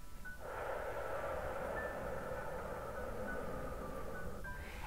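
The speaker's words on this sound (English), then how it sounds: "Out through your mouth for 7." A slow, controlled breath out through the mouth during labour breathing, heard as a soft, steady airy exhalation lasting about four seconds, close and quiet, with no talking.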